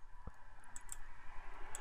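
A single sharp mouse click while setting interface preferences in Premiere Elements 2024, one brief click against faint room hiss.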